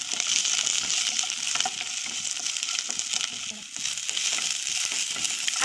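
Sliced onions, garlic and chillies frying in a small amount of oil in a kadai, a steady bright sizzle with brief stirring scrapes, close and continuous.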